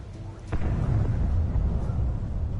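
A single explosion bursts suddenly in a Batman video game, followed by a dull, sustained low rumble at moderate loudness.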